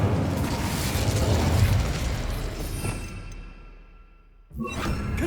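A loud, close burst of fire from the Incendio spell in Hogwarts Legacy roars with a rushing whoosh, then fades over a few seconds before a sharp new burst hits at the end.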